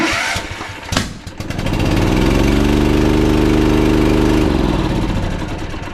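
A zero turn mower engine with a loss-of-power fault cranks over after a couple of clicks, catches and settles into a loud, steady close-up running drone that eases slightly near the end.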